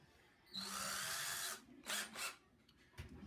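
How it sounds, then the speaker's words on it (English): A power drill bores a hole in a broken wooden chair: one sustained whirring burst, then two shorter pulses and a brief final blip, all close and fairly quiet. "we'll just start by drilling this first hole that goes right here"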